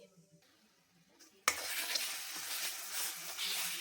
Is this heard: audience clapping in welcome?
no